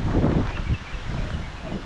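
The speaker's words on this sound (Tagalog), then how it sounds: "Ang lakas ng hangin oh." Strong wind rushes through coconut trees in the province before dawn, a loud, continuous roar with rustling fronds and microphone buffeting, no voices.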